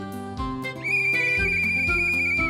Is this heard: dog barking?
no